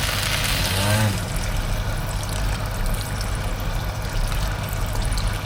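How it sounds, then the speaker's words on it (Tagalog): Water pours steadily into a pot of rice for Filipino chicken arroz caldo, a close, continuous splashing and trickling stream that runs throughout. "Punuin lang natin hanggang sa lumubog yung kanin."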